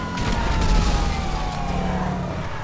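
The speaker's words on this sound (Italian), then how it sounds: "Ho acceso la sirena." Police car siren in the video game GTA V during a Pacific Standard heist, a wailing tone sweeping across the clip over engine and background game noise, moderately loud.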